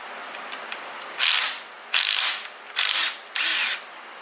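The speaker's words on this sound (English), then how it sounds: "We gotta get this old Banjo bolt off." A power tool, likely an impact or ratchet gun, works an old 11 mm brake banjo bolt loose on an Escalade/Tahoe/Yukon during a Brembo 6-piston conversion, giving four loud, close bursts of whirring and rattling with short pauses between.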